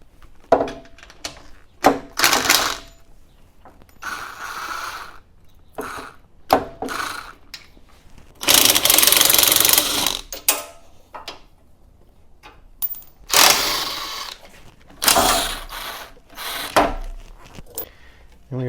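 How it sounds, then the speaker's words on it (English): Ratchet clicks and metallic handling noises come from pulling four 10mm bolts off the A/C condenser of a 2006–2010 Dodge Charger R/T, with irregular bursts of clicking separated by quiet gaps and some brief talk. "now we can remove the bolts and pull the condenser out"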